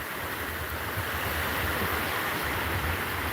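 Surf rolls onto a warm Gulf of America beach in a steady, unbroken wash, with a soft low rumble and light wind noise on the microphone.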